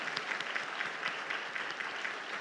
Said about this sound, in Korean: 큰 박수로 같이 인사하겠습니다.